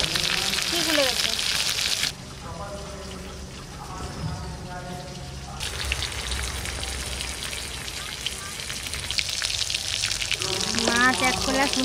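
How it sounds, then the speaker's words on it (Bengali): Stingray pieces frying in a pan for a village-style dish, a steady crackling sizzle like rain that softens midway and swells again, with a person talking over it. "মাছ এক খোলা সুন্দর ভাজা হয়ে গেছে"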